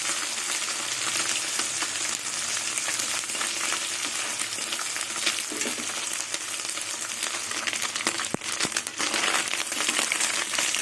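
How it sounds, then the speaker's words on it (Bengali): Small mourala fish fry in hot oil in a pan, a close, continuous sizzle dotted with crackles and pops, with no voices. "এইভাবে সব মাছগুলো ভেজে নেব"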